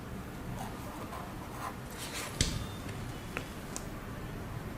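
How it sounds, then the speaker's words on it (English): A pen writing a sum's result on an addition strip board: faint, close scratching strokes with a couple of small sharp taps, no talk. "then you have to write the result"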